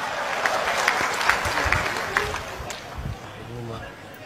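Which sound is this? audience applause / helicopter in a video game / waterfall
audience applause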